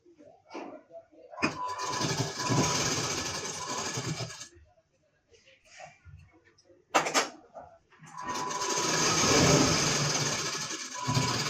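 A sewing machine runs in two long bursts, stitching a blouse seam with a steady whirring hum, separated by a quiet pause with light handling clicks.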